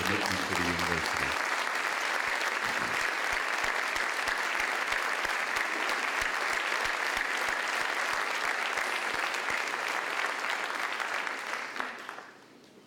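Sustained audience applause at a university convocation, dense and loud throughout, with a brief voice at the very start, then clapping that fades out at the end.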